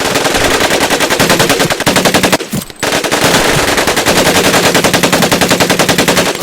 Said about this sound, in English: Take your time to aim and fire the weapon in short bursts only.